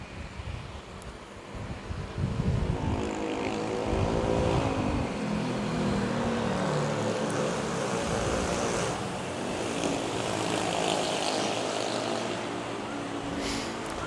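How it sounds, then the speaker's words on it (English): A Philippine Air Force C-130 propeller transport at Manila airport gives a broad, rushing roar that swells after a couple of seconds and holds steady, with a droning rumble like surf and wind. "Good looking aircraft."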